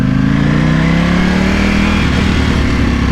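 A 2020 Ducati Panigale V4S motorcycle engine revs loudly up close, its pitch climbing and holding in one sustained, throaty rise with no talking.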